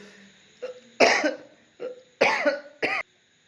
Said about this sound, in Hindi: सॉरी, खांसी आ गई थोड़ा